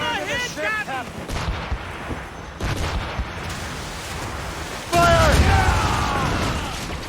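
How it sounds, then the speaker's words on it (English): Ship cannon fire in the naval game Assassin's Creed Rogue: heavy booming volleys and crashes of impact, with crew shouting over the noisy battle throughout. "They're firing, sir! They hit us, sir!"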